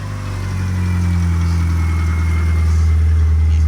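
Mitsubishi Eclipse engine idling loud and close, a steady low droning hum that stays even throughout with no talk over it.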